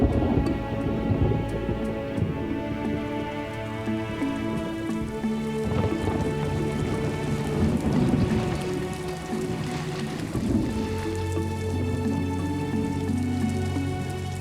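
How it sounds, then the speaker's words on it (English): Heavy wet-season rain pours steadily in Namibia during a violent thunderstorm, with deep rolling thunder rumbling through the downpour across the whole stretch, loud and continuous with no voices. "The last few days have seen violent storms moving in swiftly and suddenly."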